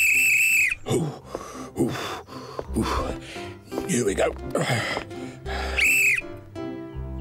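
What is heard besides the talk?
whistle being blown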